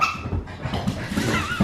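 A pet dog named Muffin gives short whimpering yips and a small bark indoors, close to the microphone, in a quick uneven burst.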